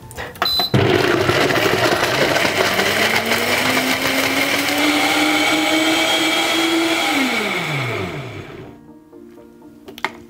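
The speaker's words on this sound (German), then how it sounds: "Und dann gibst du das Ganze auf die Mixstation." A countertop blender whirs steadily, blending almonds, dates, turmeric, cinnamon, peppercorns and water, its motor pitch rising gradually before winding down and stopping near the end.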